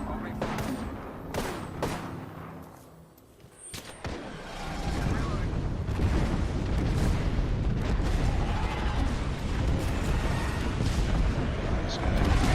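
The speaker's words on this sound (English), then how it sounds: "We should signal in airstrike." Airstrike explosions in the shooter game Apex Legends: a brief lull, then a dense, sustained barrage of heavy booms and rumbling blasts rolls in loud from about four seconds on, with faint talk mixed in.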